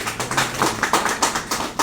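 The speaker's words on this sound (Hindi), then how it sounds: "उनके लिए तालियां हो जाएं।" Scattered claps from a small audience, with uneven, sparse individual hits spread over a couple of seconds and no voice over them.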